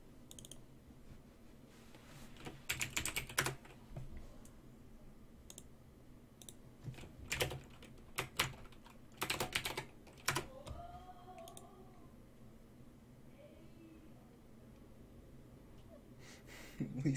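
Quiet, close typing on a computer keyboard comes in scattered clusters of clicks with long pauses between them, over a low background hum, with faint voices in the background.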